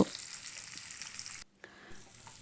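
Sliced onions frying in a pan, a dense close sizzle that drops out abruptly partway through, then returns more faintly, with no one talking.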